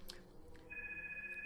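A telephone rings in a room, a steady electronic ringtone tone that starts partway through and holds on continuously, moderately loud over faint background noise.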